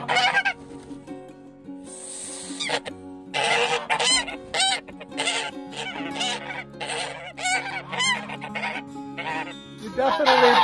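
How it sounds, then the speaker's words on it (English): Farmyard geese honk loudly and repeatedly nearby in cold breeding-season weather, their harsh calls coming in overlapping bursts with a few bleating, fowl-like sounds mixed in. "Geese are going crazy."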